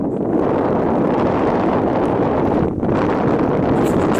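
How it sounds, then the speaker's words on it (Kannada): A strong wind on a high hilltop above a deep drop buffets the microphone with a loud, continuous roar and rumble that barely eases for the whole stretch. "ಮೇಲೆ ಬಂದಂಗೆಲ್ಲ ಒಂದು ಗಾಳಿ ಬೀಸುತ್ತೆ, ಅಂದರೆ ಅಷ್ಟು ಸುಂಟ್ರ ಗಾಳಿ ಬೀಸ್ದಂಗೆ ಬೀಸುತ್ತೆ."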